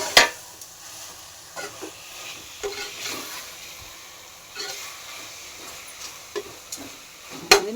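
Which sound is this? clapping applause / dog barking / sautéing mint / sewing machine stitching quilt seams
sautéing mint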